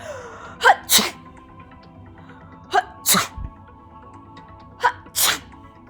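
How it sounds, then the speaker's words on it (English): A staged sneeze sound effect on a game-show question about sound words, with three distinct sneezes at an even pace, each a sharp burst over a low studio hum. "ooh, achoo"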